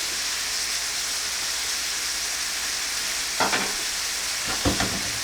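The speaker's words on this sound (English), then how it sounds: "what you're doing is you're just wilting the vegetables and letting them go down" Bok choy and other vegetables wilting in a hot pan for pasta, a steady close sizzle with a couple of bursts of stirring and scraping near the end, no voices.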